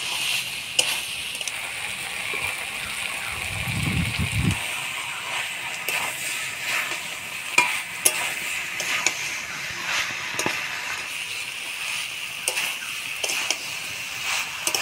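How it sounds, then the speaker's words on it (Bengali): Jackfruit and potatoes are stirred with spices in a pan, cooked village-style. A steady sizzling hiss runs throughout, broken by scattered scraping and clinking strokes and one low thumping burst early on. "আলু কাঁঠাল মশলার সাথে ভালো করে নাড়াচাড়া করে নিলাম"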